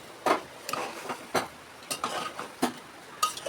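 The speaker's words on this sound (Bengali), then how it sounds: "ভালো করে নেড়ে নেব" Dalia (broken wheat) being stirred in a pan for a quick breakfast, heard as a series of scraping, clinking spoon strokes at an irregular rhythm with quiet pauses between them.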